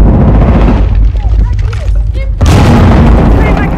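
A gunshot in a video game erupts as a loud booming burst amid continuous dense game noise, with voices talking throughout.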